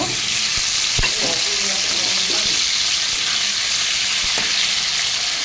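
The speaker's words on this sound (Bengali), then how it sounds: "এখন তেলটার সঙ্গে আমি আলুটাকে ভেজে নেব।" Boiled potatoes frying in oil in a kadai for a jackfruit and prawn dish, a loud, steady, close sizzle that runs throughout, broken by a few spatula scrapes and knocks.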